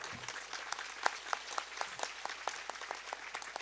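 A small audience claps in steady rhythmic unison, moderately distant and even, at a Hindu religious discourse and fire-ritual gathering.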